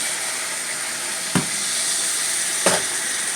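Salmon in ginger sauce steams in a pan after a splash of water is added, giving a steady broadband sizzle and hiss with two brief clatters of stirring.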